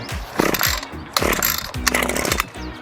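Gas string trimmer (weed whip) engine sputtering and revving as it starts, rough bursts of motor noise rising and falling close by, with no talking.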